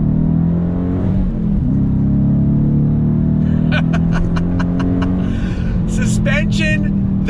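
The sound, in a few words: Dodge Challenger R/T 6-speed manual accelerating on throttle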